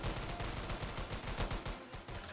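Rapid gunfire in the gang video game A Thug's Ascension, dense bursts of automatic shots crackling in quick succession with a rumbling low end, loud and continuous.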